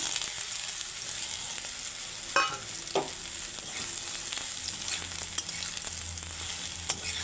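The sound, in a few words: soybean chunks frying in oil in a wok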